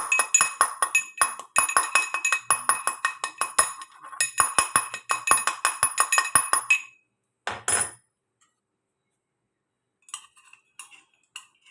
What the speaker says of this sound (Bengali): আমার গাছের পুদিনা পাতা এটার মধ্যে একটু থেতো করে নেব